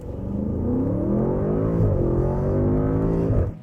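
A car engine revs up hard and accelerates, its pitch climbing steadily over a few seconds with no talking.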